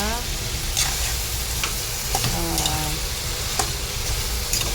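Squash and sweet potato flesh sizzle steadily in a hot pan for a mixed Filipino vegetable lunch dish, with a continuous frying hiss and a few scattered scraping stir strokes throughout.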